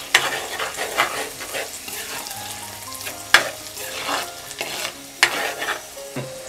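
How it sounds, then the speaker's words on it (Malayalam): A ground paste with mango, mustard seeds, shallots and chilli is stirred and fried in a pan for a Kerala-style tuna curry, giving a loud, close sizzle with repeated scraping strokes and spoon knocks, with no talking. "ഇപ്പം നമ്മളിതെല്ലാം കൂടെ അരച്ച് ചേർത്ത് ഇളക്കി കൊടുക്കാം. നല്ലോണം ഒന്ന് വഴന്ന് വരണം"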